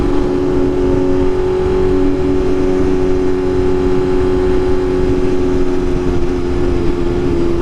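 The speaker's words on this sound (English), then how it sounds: "I think I got the motorcycle people behind me" Motorcycles ride behind on a road during a trip to a bike meetup, giving a steady loud engine drone with wind rush throughout and no distinct revs or talking.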